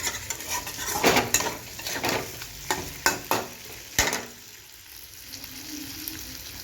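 Masala for a katla fish curry with potatoes being fried and stirred in a pan, a soft sizzle under sharp rhythmic clanks and scrapes of a metal spoon against the pot.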